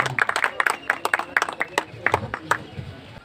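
Audience applause at a Hindi-Urdu poetry recital (kavi sammelan), a run of sharp, irregular claps from a modest crowd that thins out over a few seconds, with some voices underneath.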